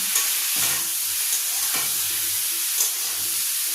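A curry is stirred in a pan just after cumin powder goes in. A constant frying hiss is broken by several short utensil scrapes at an uneven pace, with no voices.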